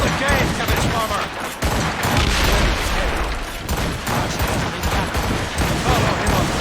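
A ship's gunfire volley in Assassin's Creed Rogue erupts in a loud, dense barrage of overlapping cannon blasts and crackling shots, with shouting voices mixed into the din.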